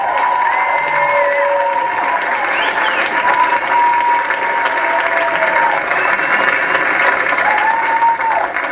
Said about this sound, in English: How about a nice round of applause for the gentleman who got this project started, for Verdi Productions, Chad Verdi